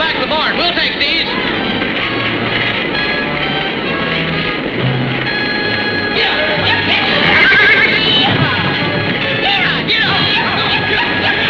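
Horses whinny and neigh loudly amid a busy barn din, with voices and hoof clatter mixed in.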